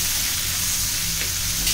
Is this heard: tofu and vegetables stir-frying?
yes